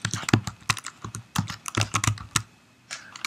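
Fingers type quick, irregular clicks on a computer keyboard while code for a neural network is entered; the keystrokes are close and crisp, coming in short bursts with brief pauses and no talking.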